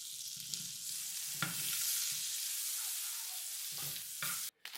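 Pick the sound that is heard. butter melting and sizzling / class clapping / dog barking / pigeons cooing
butter melting and sizzling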